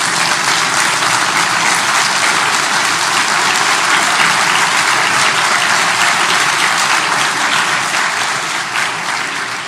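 A church congregation applauds the Lord Jesus Christ during a sermon, a loud, dense, steady wall of clapping that holds for the whole stretch.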